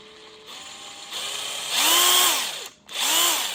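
A DeWalt 20V Max XR cordless impact wrench whirs in short bursts at its top speed setting, spinning up to a high, steady whine, briefly stopping, then revving up again.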